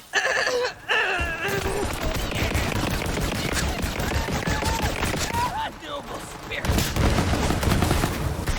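Legendary weapon firing in Borderlands 3, a rapid run of loud sharp shots crackling almost continuously for several seconds amid in-game effects and a brief voice line.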